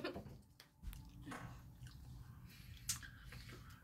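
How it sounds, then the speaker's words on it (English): Faint, wet chewing of food with a cracker, with scattered soft crunches and squishy mouth noises and a few sharper clicks over a quiet room hum. "you're still chewing"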